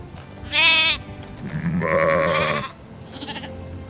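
Sheep bleating nearby, several distinct wavering bleats from more than one animal in quick succession, separated by brief quiet gaps.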